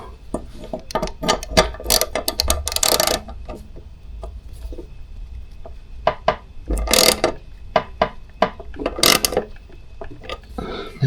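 Repeated ratcheting clicks from a wrench tightening a lawn mower blade, coming in short bursts of rapid clicks with pauses between strokes, close and fairly loud.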